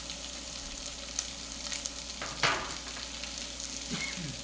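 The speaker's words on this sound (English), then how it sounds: "we're going to sweat this fairly quickly" Mirepoix with peppercorns sizzles quietly in a pan, a soft continuous frying hiss with a few light stirring knocks, fairly faint.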